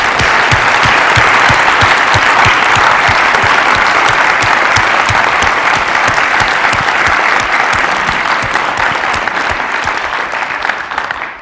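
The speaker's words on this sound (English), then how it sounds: "So let's give you all a round of applause." Loud, sustained applause from the audience at a Fort Collins city council and mayoral candidates event, dense clapping that holds steady for about eleven seconds before tapering slightly at the end.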